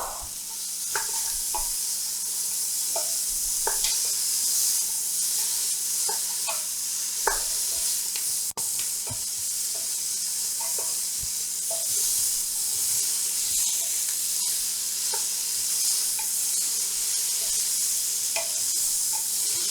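Celery, poblano peppers and butternut squash sizzle softly in a pan for a vegetarian gumbo, with a steady hiss broken by scattered clicks and scrapes of stirring.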